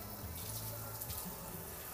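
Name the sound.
water being poured onto car wax test surface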